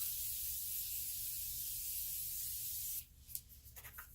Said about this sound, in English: I'm gonna spray one more time.